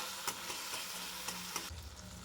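Tomatoes frying in a pan while being stirred, a soft sizzle broken by a few scraping strokes of the spoon, fading quieter near the end.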